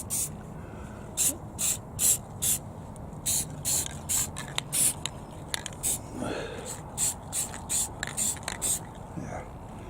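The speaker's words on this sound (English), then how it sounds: "I'm going to spray some paint on those." Flat spray paint from an aerosol can sprayed onto red wires, about fifteen short hissing bursts in a quick uneven rhythm, loud and close, with a brief murmur between sprays.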